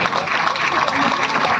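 Audience applause at a community gathering, a dense burst of clapping that fills the whole short moment at steady, fairly loud level, with no pause or break.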